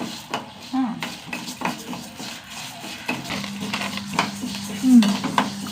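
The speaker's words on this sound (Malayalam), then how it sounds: "പൊട്ടുന്ന പോലെ വറുക്കണം" Horse gram is stirred and scraped around a dry pan, with irregular rattling and clinks of a spatula against metal.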